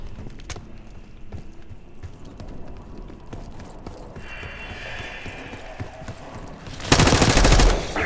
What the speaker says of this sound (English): You hearing gunfire?